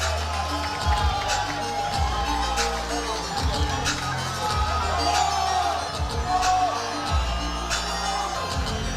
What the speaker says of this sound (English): He calls for the crowd and they respond.